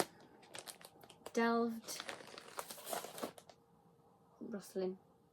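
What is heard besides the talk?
rustling of a bag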